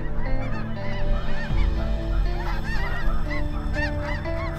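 A flock of snow geese honks continuously and loudly, many overlapping calls close by with no break.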